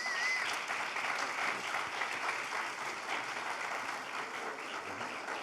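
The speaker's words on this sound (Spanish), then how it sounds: "démosle un fuerte aplauso a todos ellos" An audience gives a loud, steady round of applause that lasts the whole stretch, a dense continuous patter of many hands clapping without a break.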